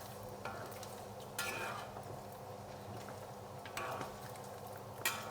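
Pork fat cracklings render and fry in oil, giving a continuous soft sizzle with a few sharper scraping stirs near the pan.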